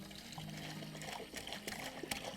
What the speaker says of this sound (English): I'm just going to pour that in there.